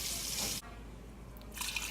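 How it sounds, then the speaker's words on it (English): Water pours from a tap into a pot of cabbage soup, a steady hissing stream that breaks off briefly near the middle and resumes, close and fairly quiet. "let me get another 2 cups of water in there and see what that looks like"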